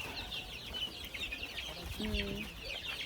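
Gamefowl chickens, Golden Boy Sweater Cross and White Kelso Cross cocks, cluck faintly at a distance, a few soft calls over low background noise, with a brief clearer call near the middle.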